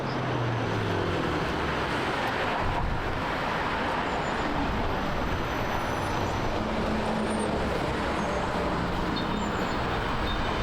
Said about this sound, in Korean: 버스 왔다.